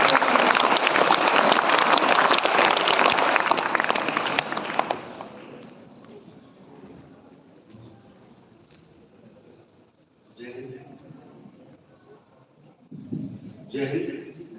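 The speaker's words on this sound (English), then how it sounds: "A big round of applause." An audience at a school event in Rewari applauds loudly for about five seconds, the clapping then fading into quiet room noise with a few bursts of distant voices.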